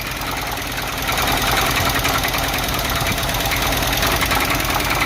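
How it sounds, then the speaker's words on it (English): A 1976 Chevy El Camino engine runs rough after sitting unused for a long time, with a steady knocking, clattering idle that holds loud and close throughout, with no talking. "Last time I heard this engine run, it never sounded like that"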